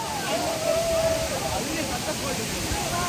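At a waterfall on the way to Chikmagalur, water roars and sprays in a dense, continuous wash close by, and a voice talks faintly under it.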